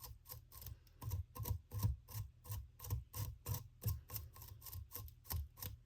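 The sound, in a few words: coarse wire brush brushing out a dubbing loop fly head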